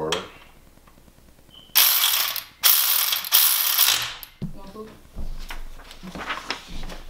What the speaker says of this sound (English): I got my torque wrench set to 20 Newton meters